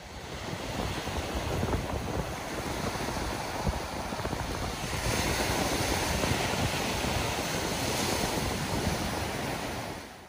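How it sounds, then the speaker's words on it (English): Ocean surf rolls in a continuous broad roar for about ten seconds, with wind buffeting the microphone and no voices. "Let's pontificate to beautiful ocean sounds."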